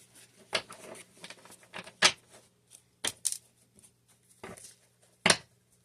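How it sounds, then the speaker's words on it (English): Irregular papery flicks and soft slaps of tarot cards being shuffled by hand, close up, with brief pauses between bursts. "I am shuffling as I pray"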